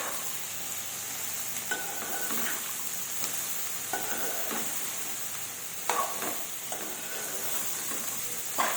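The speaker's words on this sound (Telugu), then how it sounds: "ఇప్పుడు బీరకాయ వక్కలు వేసుకున్నాం" Ridge gourd pieces cook in a hot pan after green chillies for a ridge gourd curry, giving a soft steady sizzle with occasional stirring scrapes and taps, close and moderate, with no talking.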